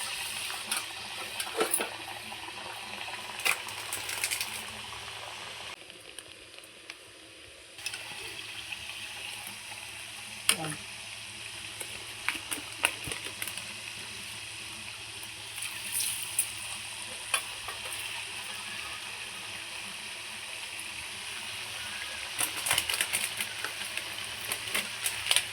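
Palm fruit batter fritters frying in hot oil, a steady low hiss and gentle sizzle running throughout with a brief quieter stretch partway, faint kitchen clatter now and then.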